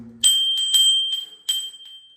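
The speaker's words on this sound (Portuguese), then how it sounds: "Ai, eu vou tocar sininho." A small doorbell with a cat decoration rings at the door in Copacabana, giving a few bright metallic jingles in quick succession and then one more, close and clear, each with a short ringing decay.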